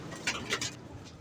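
Indian Zakh and Lakha pigeons cooing, two or three soft coos in quick succession, close by over faint background noise.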